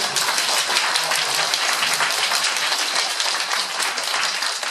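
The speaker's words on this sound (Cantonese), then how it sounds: "我哋用啲熱烈嘅掌聲開始我哋呢個" An audience at a talk applauds, dense sustained clapping from many hands at an even level throughout, with no speech over it.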